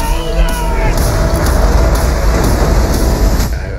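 Train running on rails, a high-speed bullet train: a loud, steady rumble and roar with faint rhythmic clatter, close and continuous, with faint tones and voices under the noise.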